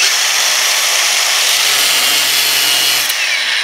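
A power tool grinds steadily through a metal winch mount bolted on a quad, a loud continuous close-up whine that holds without pause throughout.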